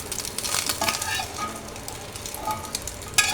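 Eggs sizzle steadily in a hot pan, with a continuous crackling fry and occasional light scraping, close and moderately loud, with no talk.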